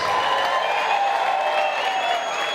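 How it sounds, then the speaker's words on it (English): Applause for graduating seniors at a commencement ceremony: a dense, steady wash of clapping from a large crowd, sustained and even throughout. "let's give our seniors a nice big round of applause"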